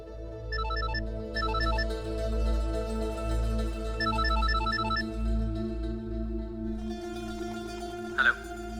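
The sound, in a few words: phone ringing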